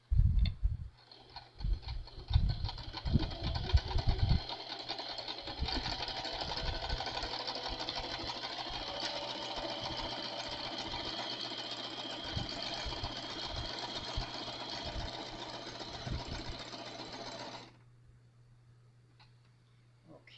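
A home sewing machine runs steadily, stitching fabric scraps in a continuous whirring drone for about seventeen seconds before stopping, with a few soft knocks and handling sounds at the start.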